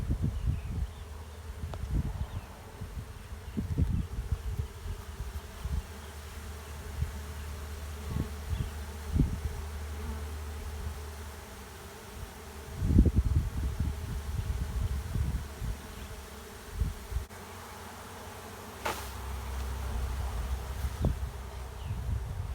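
Honeybees buzz around an outdoor hive in a steady, soft drone, with occasional bees passing close and brief rustling; no talk.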